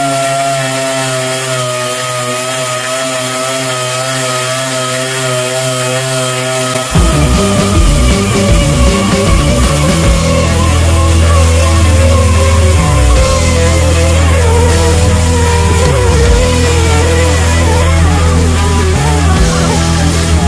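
A DA orbital sander with 40-grit discs grinds loudly and steadily on body filler on a travel trailer, its pitch shifting as it bears down on the surface, running continuously without a break.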